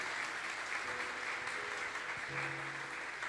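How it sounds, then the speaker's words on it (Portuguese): A church congregation applauds during a Wednesday worship service, a faint, fairly distant burst of clapping with a few short vocal tones and cheers mixed in. "Vamos aplaudir Jesus em forte"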